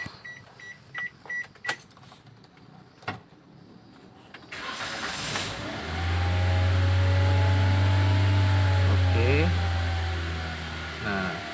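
An engine on a tuning bench with its throttle wedged open: faint clicks and bumps first, then it fires up and holds a loud, steady elevated idle with a strong low hum, close by.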